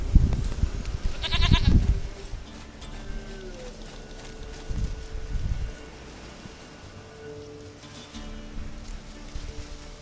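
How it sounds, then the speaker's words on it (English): A goat bleats in The Witcher 3 amid rural game ambience, with a loud nasal bleat near the start followed by softer bleats later, over a steady outdoor background hum. "Goat of mine, dearest, sweetest goat."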